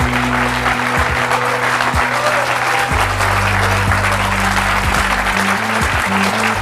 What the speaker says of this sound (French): Mais je vous demande tout d'abord d'accueillir et d'applaudir très chaleureusement nos deux premières invitées, Isabelle et Mona.